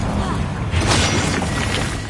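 A Bombarda blasting spell from Hogwarts Legacy bursts in a loud, broad explosive crack near the middle, surrounded by dense battle noise with no clear gaps.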